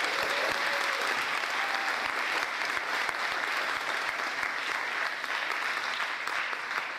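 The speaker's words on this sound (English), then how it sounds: "How about a round of applause for the Job Corps?" A crowd at the Dr. Benjamin L. Hooks Job Corps Center gives a round of applause for the Job Corps, loud and dense clapping that stays steady for the whole stretch with no voices over it.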